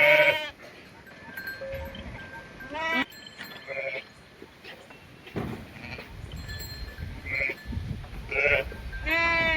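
Sheep eat silage at home on a shepherd's farm, with repeated near bleats rising over steady chewing and shuffling, and a few calls overlapping from different animals.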